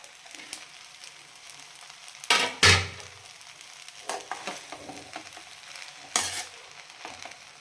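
Tawa pulao with potatoes is being stirred on a hot tawa while it fries steadily. A sizzle runs underneath, and several sharp scraping, clanking strokes of a spatula against the metal break through it.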